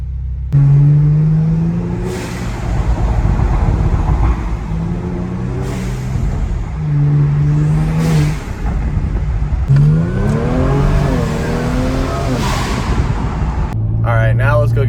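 A tuned Kia Stinger revs hard in city streets, the exhaust rising and falling in repeated surges with sharp pops and bangs between them, close and loud, while people talk over it.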